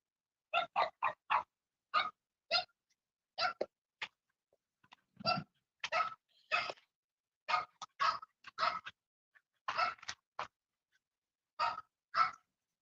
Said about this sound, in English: My neighbor's French bulldog over there. Frenchie's out there barking.